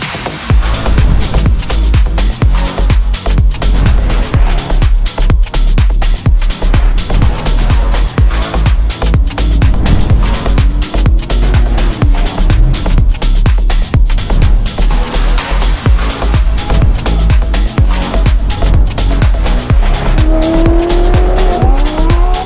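A Ferrari F8 Tributo's engine roars loudly and continuously with a rapid throbbing exhaust note, tires squealing now and then as it drives hard.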